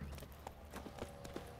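A few quick hoofbeats from Roach, the horse in The Witcher 3 game, clop briefly and faintly under low game ambience.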